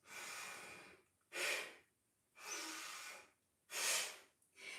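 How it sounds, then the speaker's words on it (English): Forceful Bhastrika breaths taken in goddess pose during a yoga practice, four loud rushing breaths in alternating long and short bursts, close and alone with brief silences between. "This breath is called Bhastrika"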